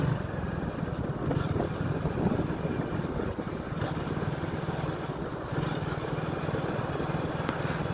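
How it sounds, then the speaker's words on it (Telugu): A Hero Glamour BS4 motorcycle with a freshly fitted engine runs steadily while being ridden at a moderate pace, giving a continuous close, low rumbling drone that stays even throughout, with no speech. "ఇంజన్ సౌండ్ అయితే వినండి ఫ్రెండ్స్"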